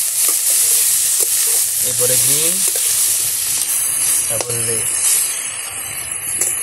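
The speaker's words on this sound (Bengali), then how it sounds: "সব এবার ভালো করে ভাজা হচ্ছে।" Chopped vegetables, including yellow bell peppers, frying in a pan for homemade momo filling, giving a steady loud sizzle throughout, with brief stirring and a voice speaking over it now and then.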